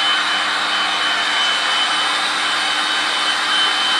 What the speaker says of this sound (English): Homemade blow dryer